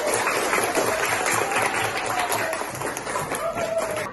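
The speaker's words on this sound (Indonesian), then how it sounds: "Oke, tepuk tangan buat kita semuanya" A class of schoolchildren clap their hands together in a classroom, a steady crackle of many hands sustained throughout, with faint voices underneath.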